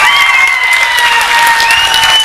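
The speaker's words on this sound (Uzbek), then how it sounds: "Bir qarsak bo'lsin shu ukamiz uchun" A crowd at a wedding celebration in Khorezm claps for a young boy, a loud, dense burst of applause with a sustained tone ringing over it.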